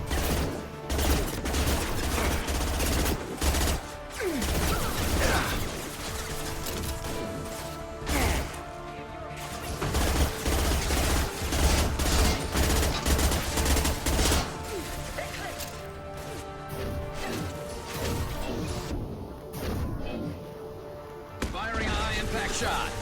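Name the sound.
gunfire in the Mass Effect 2 video game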